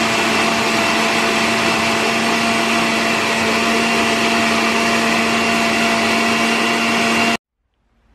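A kitchen blender grinds onion with chicken bouillon for a meatball broth, a loud steady motor whine with a fixed hum that runs unbroken for about seven seconds and then cuts off abruptly.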